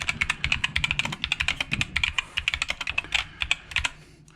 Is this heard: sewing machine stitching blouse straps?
no